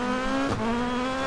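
Rally car from the racing game Dirt Rally 2.0 holds a steady, loud engine drone, broken by one brief crunching impact midway as it crashes during a race.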